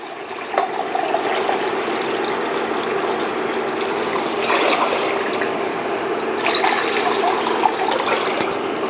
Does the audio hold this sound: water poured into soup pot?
yes